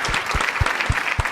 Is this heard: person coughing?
no